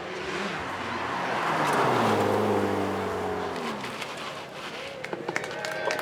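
A performance car tuned to around 300 horsepower accelerates on the track at a supercar weekend, its engine note climbing through the gears as it passes close by and fades, then sharp clicks and other noises follow.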